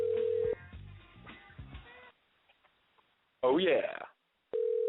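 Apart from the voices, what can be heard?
telephone dialing and ringing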